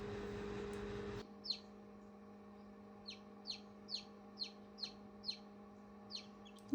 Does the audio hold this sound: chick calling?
yes